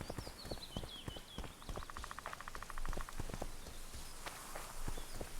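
Horse hooves clip-clop steadily in The Witcher 2, a walking rhythm of hoofbeats heard through game ambience with other scattered sounds, moderately loud and without any talking.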